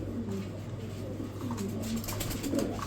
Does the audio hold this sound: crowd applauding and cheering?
no